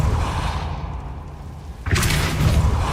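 Confringo and Repulsor spells cast in Hogwarts Legacy: a soft whooshing build, then a sudden loud booming burst near the end that rings on brightly.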